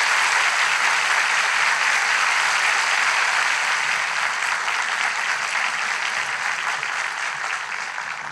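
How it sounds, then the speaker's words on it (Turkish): A studio audience at a Turkish relationship-test talk show applauds enthusiastically for two guests, a dense, steady wash of clapping that stays loud throughout and eases slightly toward the end. "Sevgili Cennet Hanım ve Sezai Bey için coşkulu bir alkış"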